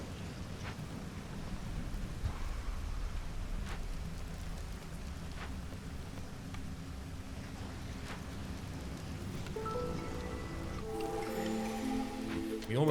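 Storm rain in the video game Against the Storm, a steady wash of rainfall with soft rumbles, joined near the end by bright chiming game interface tones.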